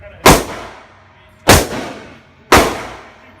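Three loud, sharp gunshots ring out about a second apart, each Perfecta round fired close by with a sudden crack and a quick fading tail, and no voices in between.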